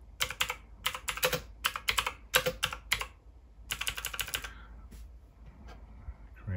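Typing on a computer keyboard into Windows Write under Windows 3.11: quick bursts of close, crisp key clicks in irregular clusters separated by short pauses, alone without speech.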